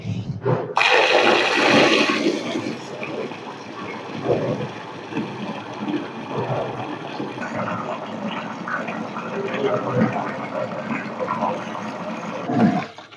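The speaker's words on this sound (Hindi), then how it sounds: "अब इसमें पानी डालते हैं।" Water is poured onto soaked moong dal in a bowl: a loud, close gush in the first seconds gives way to continuous sloshing and swirling, while someone talks over it.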